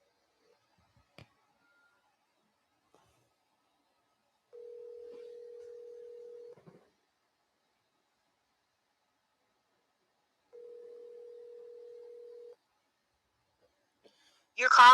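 Two long ringback tones on a telephone line, each about two seconds, separated by silence, heard while a caller on a live show waits before being forwarded to voicemail; a brief burst of noise cuts in at the end.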